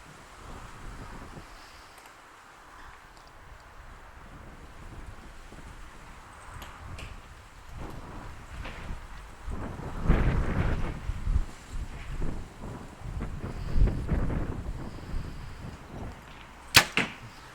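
Outdoor wind at an archery range, a soft steady rush that swells into heavy buffeting gusts on the microphone in the second half, with one sharp snap near the end.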